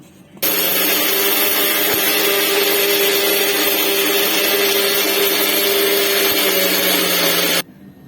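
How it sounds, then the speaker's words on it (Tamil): A mixer grinder grinds masala into a paste, a steady loud whirring drone that runs unbroken for about seven seconds and then cuts off abruptly. "எல்லாத்தையும் போட்டாச்சு, மசாலா எல்லாம் நம்ம அரைச்சிட்டு வந்துடலாம்."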